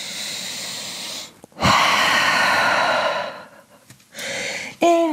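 A deep breath during the downward dog yoga pose: a long, loud airy exhale lasting a couple of seconds after a short gasp, then a softer breath and a brief vocal sound, close to the microphone.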